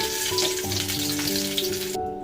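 Cauliflower pieces fry in hot oil for a katla fish kasha, giving a dense, steady sizzle that cuts off abruptly near the end.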